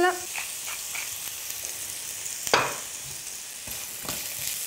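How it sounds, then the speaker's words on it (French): Chopped onion sweating in olive oil with a pinch of salt in a pan, a steady soft sizzle throughout with a few brief clatters of a utensil against the pan. "Je vais tout de suite mettre un peu d'huile d'olive pour faire suer mon oignon."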